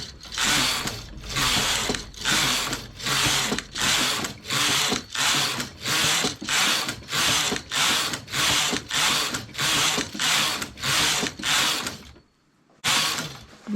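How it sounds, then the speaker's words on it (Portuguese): A knitting machine carriage makes repeated passes to knit a stuffed flower piece, giving a steady, loud rhythm of about seventeen rasping, clicking sweeps. A short pause comes near the end before one final pass. "coloquei o pente e um peso, chamo as agulhas de trás e vou tecer"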